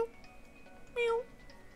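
A person imitates a cat's meow in a playful Pokemon Mew voice, one drawn-out nasal meow rising and falling near the microphone over quiet background hum.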